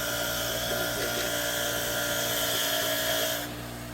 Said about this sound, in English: First, you're going to want to take all your chunky rust off with a wire wheel